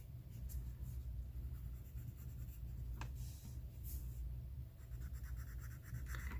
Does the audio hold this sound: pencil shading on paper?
yes